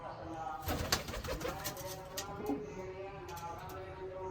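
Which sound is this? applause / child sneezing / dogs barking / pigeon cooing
pigeon cooing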